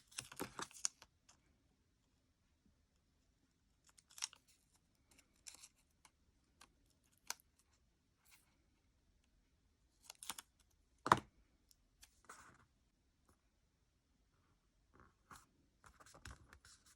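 Scissors trim paper for a Happy Planner dashboard, producing faint, sparse snips and small rustles scattered irregularly through a quiet room, with some clusters of quick cuts and long pauses between them.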